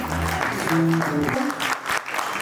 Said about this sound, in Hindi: यस, जोरदार तालियां इनके लिए